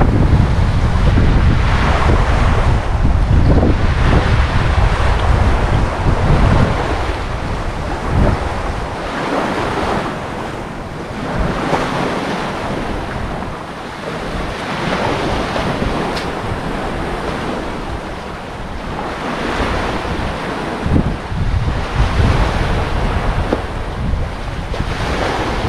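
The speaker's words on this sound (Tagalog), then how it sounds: "Medyo salubong tayo sa hangin" Strong wind and surf wash steadily against a rocky seashore where someone is fishing, with loud continuous wind buffeting and rolling waves and no talking.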